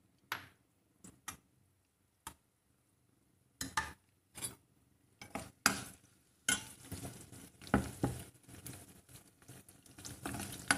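Garlic, dried red chillies, curry leaves, urad dal, mustard seeds and cumin go into hot oil for a tempering. Scattered sharp pops and crackles come first, then build into a dense, busy sizzle close by.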